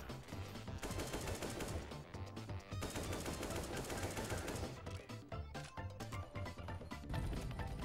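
Rapid automatic gunfire from the Counter-Strike video game, dense bursts of shots running almost continuously, loud and close, with game sounds layered behind.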